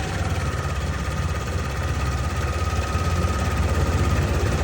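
A Yamaha Aerox v2 scooter engine runs at high idle around 2,000 rpm, a close, steady, even buzzing drone that holds unchanged throughout with no talking.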